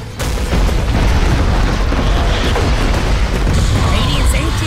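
A tower is destroyed in the video game Dota 2: a loud, sustained rumbling crash of crumbling debris and booms fills the stretch, dense and heavy throughout.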